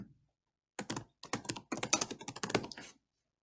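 A short burst of typing on a computer keyboard, quick clustered key clicks after a brief pause, close and clear with no talking.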